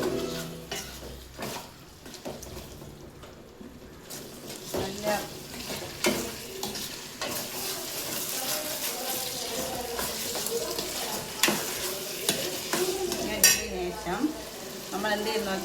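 Tomato and ginger fry and are stirred in a pan for chicken curry, a steady sizzle broken by scraping spoon strokes, with faint talk at times.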